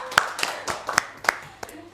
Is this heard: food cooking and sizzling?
no